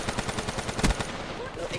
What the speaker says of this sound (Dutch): En dan is een Talon... die staat te schieten op mensen.